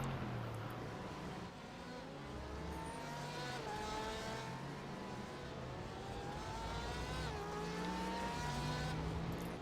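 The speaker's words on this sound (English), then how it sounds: "Shane Hunter, he's the next GT3 car. Elkins is in a GTE machine." GT3 and GTE race cars run together at Spa, their engines a steady layered roar with rising and falling tones as cars shift gears and pass, loud and continuous throughout.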